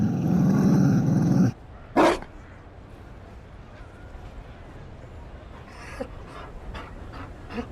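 In the Dragon Age game, a Mabari war dog pants loudly and steadily up close, then gives one short sharp bark or growl, followed by quieter scattered sounds.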